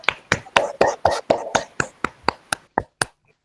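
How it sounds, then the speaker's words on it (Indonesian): Classroom applause for a student group during a peer-teaching history lesson, about a dozen sharp, evenly spaced claps that slow slightly and stop, close and fairly sparse. "kita beri aplaus untuk kelompok 2"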